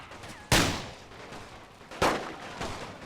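Stormtroopers fire pot shots in The Great War: Total War, a WW1 siege battle game, producing two sharp, booming gunshot reports about a second and a half apart, each trailing off into a rumbling echo.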